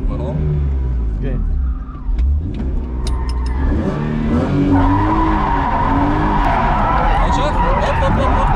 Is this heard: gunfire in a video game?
no